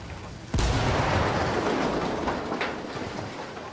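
A motorbike explodes in Ghost Recon Wildlands with a sudden loud blast, followed by a sustained rumbling roar and scattered debris pops.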